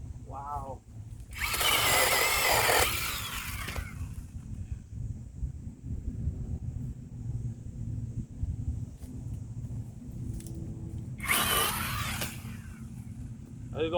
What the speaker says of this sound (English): I like this little bitty chainsaw